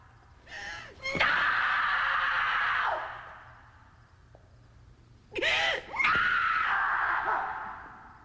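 A person screams in a tense drama, two long, piercing cries a few seconds apart, each starting with a sharp gasping onset and then holding loud and strained before breaking off.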